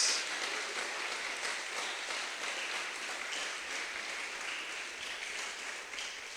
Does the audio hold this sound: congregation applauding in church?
yes